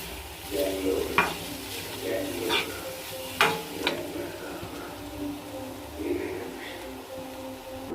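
Carrot fry sizzles in a pan while being stirred, a continuous frying hiss broken by several sharp scraping clinks of the spatula, with faint background sounds.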